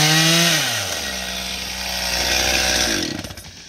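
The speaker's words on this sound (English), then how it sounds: "I'll just be blunting the chainsaw" A chainsaw cuts through a wooden fence post, its loud engine dropping from a high whine to a steady labouring drone, then sputtering and revving down as the cut ends.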